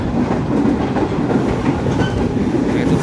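A train runs on the Nambo branch line near Bogor station, its wheels giving a continuous rolling rumble with a rhythmic clickety-clack over the rails, close and steady throughout.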